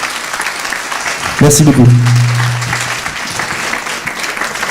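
Applause from a live show audience greeting a performer, broad clapping under a man's brief spoken thanks and a short musical tone, continuing steadily to the end.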